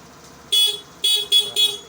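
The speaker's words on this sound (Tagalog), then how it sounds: "Tapos yung stock na busina." A scooter's stock horn beeps four times in short, sharp bursts, loud and close, the first a bit longer and the last three in quick succession.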